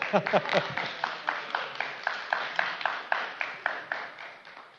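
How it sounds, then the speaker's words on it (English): A small group claps in a steady rhythmic beat at a San Diego city council meeting, roughly four to five claps per second, moderately close and even, with a voice briefly over the first moments. "You can clap a little louder"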